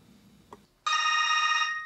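A telephone bell rings loudly in one sustained burst after a brief quiet moment, clear and close with no talk over it.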